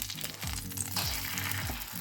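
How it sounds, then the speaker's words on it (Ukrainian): A sandwich sizzling and frying steadily in a hot pan over medium-low heat, a continuous crackling hiss with soft bubbling, close up and without talk. "Смажу на вогні нижче середнього"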